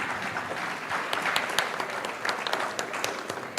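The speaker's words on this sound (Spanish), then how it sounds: "Un aplauso para ellos, por favor." Steady applause from an audience, a dense patter of many hands clapping with a few sharper claps standing out, continuing throughout.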